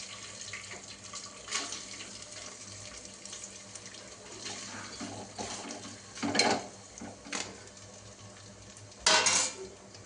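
Rice goes into a hot pressure cooker while chicken biryani is made. There is a faint kitchen background with two louder bursts of metallic scraping and clattering from the pot.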